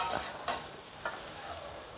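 Egg fried noodles are stirred in a hot pan, a spatula scraping a few times over a steady sizzling hiss, close and moderately loud.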